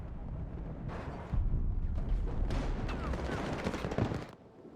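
Gunfire from Battlefield 2042 gameplay: dense bursts of shots and rattling fire with game noise filling the whole stretch, loud and continuous before fading near the end.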